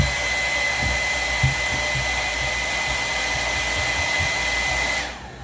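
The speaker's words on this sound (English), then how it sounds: "I'll take my hairdryer and I'll kind of heat it up." A hair dryer blows with a steady, close rushing whir and a faint high whine, then winds down at the end.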